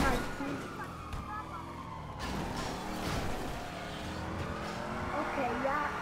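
A car drives in GTA 5, its engine droning steadily with shifting pitch and brief tire squeal, loud and continuous while people talk over it.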